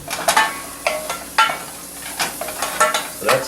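Soup aromatics cook in oil in a pot, stirred with a wooden spoon, making a close, gentle sizzle broken by frequent quick scraping strokes in an uneven rhythm.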